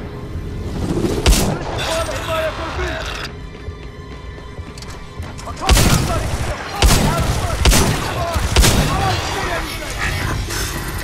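Heavy gunfire in the Titanfall 2 shooter, with repeated sharp booming shots and bursts over a constant rumbling battle din, loud and close, with voices talking underneath.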